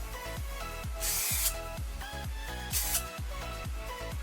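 Two short bursts of hair wax spray hiss from an aerosol can, about a second and a half apart, over a steady thumping music beat.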